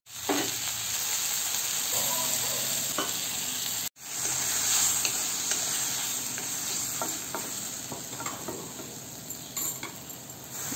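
Steady loud sizzling of chopped tomato frying in a hot pan, continuous with a brief break and occasional stirring scrapes, no voices.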